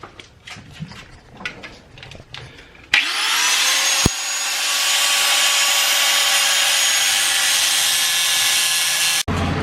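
Angle grinder cutting off small metal locators for a gearbox mount on an 86, a loud, steady high-pitched whine that starts abruptly after some softer handling noises, runs for several seconds and cuts off.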